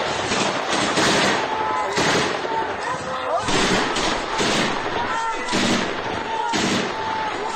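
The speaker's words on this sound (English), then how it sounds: "What you're watching are a bunch of people firing onto that area, that village." Gunfire from a group of people firing on a village, sounding as repeated bursts of distant shots in an irregular rhythm, with some talk mixed in.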